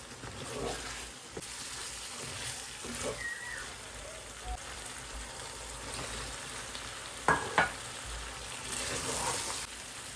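Curry frying in oil in a home kitchen, with a steady soft sizzle and occasional scrapes of stirring, faint and close, while a voice speaks briefly and other household sounds come and go.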